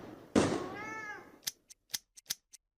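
A cat in a video game gives one loud drawn-out meow, followed by a rapid series of sharp gunshot-like pops that trail off into silence.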